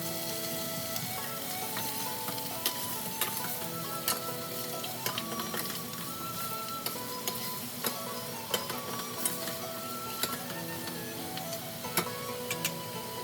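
Pork hocks stir-fry with ginger in hot vegetable oil, giving a continuous close sizzle broken by frequent sharp clicks and scrapes of the spatula against the pan.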